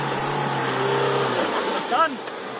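Mahindra XUV500 all-wheel-drive SUV engine climbing a long steep off-road incline, a steady mid-pitched engine drone held under strain, with a person talking over it toward the end.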